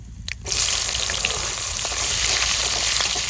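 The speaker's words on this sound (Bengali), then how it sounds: "মাছ ভাজার তেলের উপরে কালো জিরা আর কাঁচা লঙ্কা দিয়ে দেবো" Green chilies and black cumin (nigella seed) drop into hot oil left from frying pangas fish, breaking into a loud, steady, close sizzle that holds without pause.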